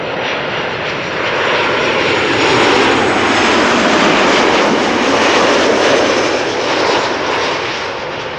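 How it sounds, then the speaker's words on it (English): A KLM Boeing 737-800 jet arriving at Schiphol from Bergen roars loudly and steadily overhead, swelling to a peak midway and easing slightly toward the end, with no voices. "This is KLM Flight 1164 arriving from Bergen, 737-800, 1 hour and 22 minutes on the way."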